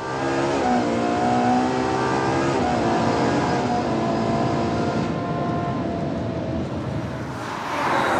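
Ferrari 812 Superfast V12 revving hard and climbing through the range, loud and close, with a continuous sustained engine roar and a brief dip before it rises again near the end.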